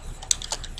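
A few quick clicks of typing on a computer keyboard, close and soft, with no talk.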